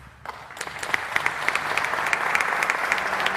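Applause from a gala audience welcoming the emcee at a foundation's anniversary event, a dense, steady wash of many hands clapping that swells after a brief start and holds at a lively level.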